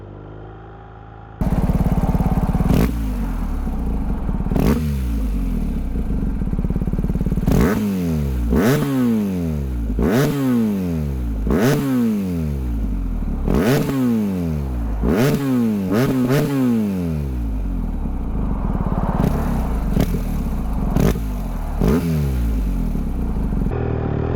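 A BMW R1250R motorcycle engine revs loudly and close by with an aftermarket exhaust, rising and dropping back repeatedly, with a throaty exhaust burble between the revs.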